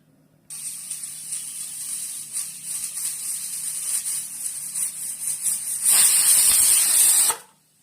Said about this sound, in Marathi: एक शिट्टी झाली